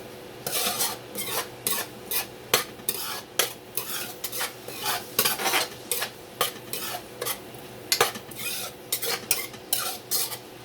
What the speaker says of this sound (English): so it's going to slowly fry